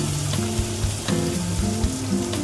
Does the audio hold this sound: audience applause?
no